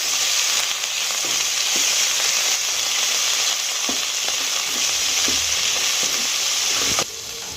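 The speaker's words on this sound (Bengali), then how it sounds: "এক চামচ লবণ দিয়ে আমি নেড়ে নেব মশলাটাকে" Spice mix with turmeric and salt being stirred in hot oil for a Bengali rui fish curry, a steady loud sizzle running throughout with scattered scraping spoon strokes, close and continuous.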